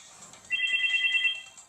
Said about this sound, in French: Ah, merde, le téléphone, putain.